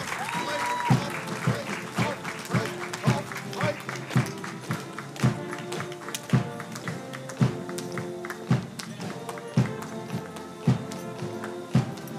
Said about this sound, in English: let's put our hands together and give a rousing round of applause to the